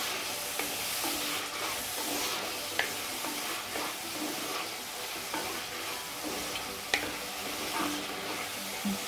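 Tomatoes cook down for chutney in a pan with a constant close sizzle, broken by occasional scraping stirs and small clinks of a spoon, with no voices.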